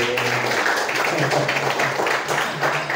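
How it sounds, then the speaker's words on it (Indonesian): Participants at a public speaking training session at Pondok Tahfidz OSB in Tangerang give a round of applause, a steady wash of many hands clapping close and loud, with voices murmuring underneath. "Tepuk tangan untuk Pondok Tahfidz SB."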